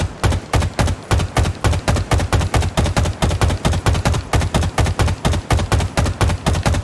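Halo Infinite assault rifle firing in rapid, evenly spaced loud shots, a continuous string of about thirty sharp reports close up, with no voices.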